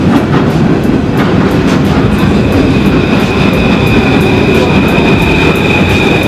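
A train rolls past on rails in Paris, a loud close rumble with rhythmic clickety-clack of wheels over joints and a faint high squeal running steadily throughout.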